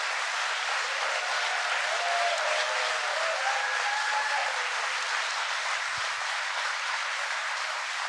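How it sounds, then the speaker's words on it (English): Sustained applause from an audience honouring the workers at an IBM site in Poughkeepsie, a dense steady wash of clapping lasting throughout with faint tonal sounds above it. "So if you would all give a round of applause to all of the people who work at the site."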